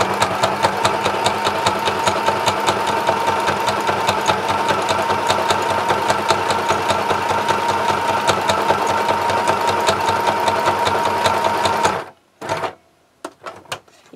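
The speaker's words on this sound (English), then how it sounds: "This little machine wasn't really made for sewing this kind of canvas." A small sewing machine stitching thick canvas runs at a fast, steady pace for about twelve seconds, then stops, leaving a few faint clicks and handling sounds.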